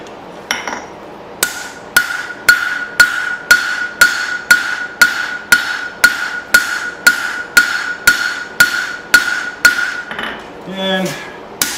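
A hammer strikes a safari knife blade on an anvil while its taper is forged, ringing out in a steady series of about twenty evenly spaced, loud metallic blows, close up with no other sound.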